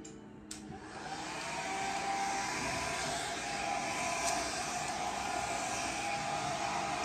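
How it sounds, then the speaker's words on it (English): A hair dryer set on high is blow drying hair with a paddle brush. After a short click the dryer starts and ramps up to a loud, steady whoosh that fills the rest of the clip. Nobody talks. "I'm gonna go ahead and blow dry"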